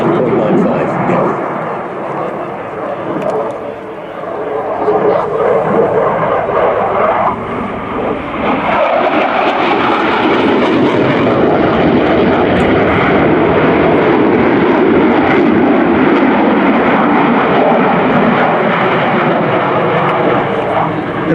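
JAS-39 Gripen fighter jet in a display flight, a loud continuous broadband jet roar that swells and holds steady as it passes, with crowd or commentary voices faintly beneath.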